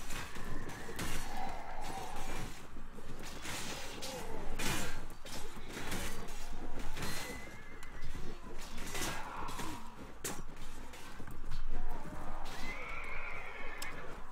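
A horse whinnies loudly in the Mount & Blade video game (Floris mod) during a battle against an army, with clip-clopping hooves and occasional crashes and swooshes of combat around it.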